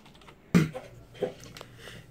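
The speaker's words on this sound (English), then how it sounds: "So now we're gonna let Colin type some words of wisdom." Several keystrokes on a computer keyboard as words are typed, a sharp close clack followed by a few softer scattered taps in a quiet room.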